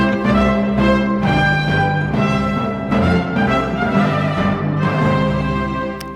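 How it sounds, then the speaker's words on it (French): The Eurovision Song Contest 2023 theme jingle plays as a loud, full-band musical sting lasting about six seconds, steady and rich, with no voices over it. "ce que vous venez d'entendre, c'est donc le générique du concours"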